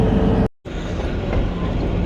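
Kalka–Shimla toy train pulling away from Shoghi station on the mountain line, a loud, steady close rumble of wheels and carriages, cut by a brief silent gap just before the half-second mark.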